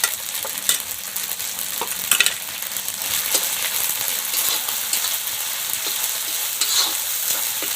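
Ginger-garlic paste and green chilli paste fry in a pan for a rohu fish curry, giving a steady close sizzle broken by scattered light scrapes and clicks of stirring, with no talk.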